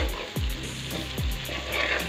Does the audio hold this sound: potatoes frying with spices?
yes